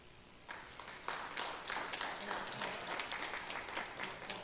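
Applause for scholars at a school Board of Education meeting, a roomful of people clapping steadily for several seconds, moderately distant and fairly soft.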